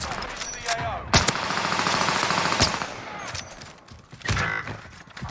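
Gunfire in the Warzone battle royale game, loud rapid bursts and sharp single shots cracking close by, with rattling automatic fire between them.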